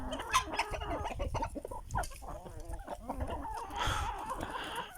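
Aseel chickens cluck and squawk in a rooster fight, a busy, close, continuous run of overlapping calls and scuffling with a louder burst toward the end.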